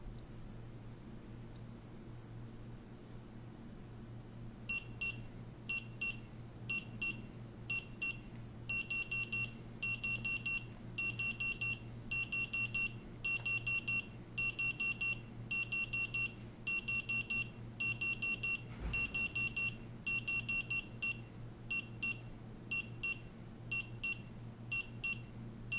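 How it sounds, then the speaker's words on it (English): Rapid high-pitched electronic beeping from a GasBadge Pro gas detector in high alarm, repeating in fast bursts with short gaps over a steady low hum, loud and close. "what a GasBadge Pro's high alarm indication would look like"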